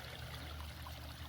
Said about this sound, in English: A little trickle of water running down this overflow chute